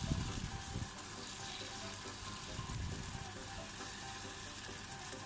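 Batter hits a hot clay pan and sizzles steadily, a bright continuous hiss close by with faint stirring scrapes near the start.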